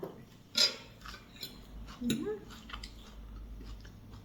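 Soft, close chewing and biting while eating rice with a blanched watercress salad and tuna chili dip, with a few light clinks of utensils and dishes and faint background voices.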